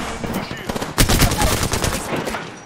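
Rapid automatic gunfire from the Apex Legends video game, a loud close burst of dense shots that swells after the first second and then trails off, with game voice lines faintly mixed in.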